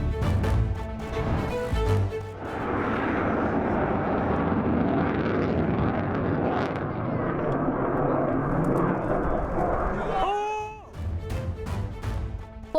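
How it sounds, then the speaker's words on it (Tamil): An F-16 fighter jet at an air show in Poland roars with a loud, sustained broadband rumble that holds steady for several seconds before cutting off, with other sounds at the start and end. "போலந்தில் வான்படை சாகசத்தின் போது F-16 போர் விமானம் தரையில் விழுந்து நொறுங்கி தீப்பிடித்து எரிந்து விபத்து ஏற்பட்டது."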